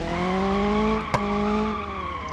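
A car engine revs high toward about 6,000 RPM, a loud sustained harmonic whine that holds steady with a sharp click midway and then eases slightly, heard up close with no talking.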